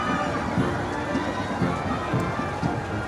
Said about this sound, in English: Along both sides of the routes, we are seeing a vast crowd of the public greeting the royal palace.